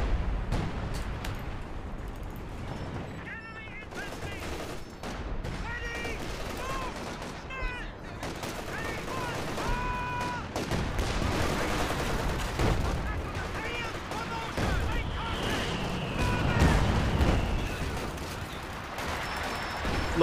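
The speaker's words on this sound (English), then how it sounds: "Lots of freaking mortars here." Company of Heroes 2 battle with mortar fire and other gunfire: scattered shots and thumping impacts mix with a busy wash of combat noise, while people talk throughout.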